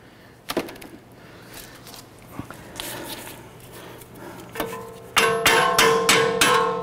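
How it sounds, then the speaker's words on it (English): A hammer taps a bolt through the strut and steering knuckle of a 2009-2015 Honda Pilot's front suspension, scattered light knocks early on, then a quick run of sharp, ringing metallic strikes close by. "Tap that bolt through"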